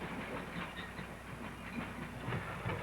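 An N&W freight car rolling over the hump in a rail yard: faint, steady rolling rumble with soft rhythmic wheel clatter and a light hiss, distant and without talk.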